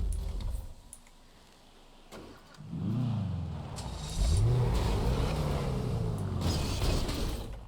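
A car engine cranks and catches, then revs in rising and falling surges that grow louder toward the end. It is heard close, with no talking over it.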